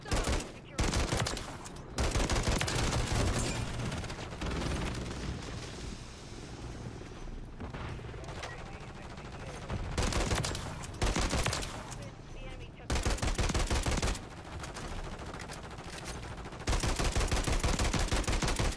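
Rapid bursts of SVA 545 gunfire from an online Call of Duty: Modern Warfare III match, loud repeated volleys with short gaps, mixed with other battle noise and occasional faint talk.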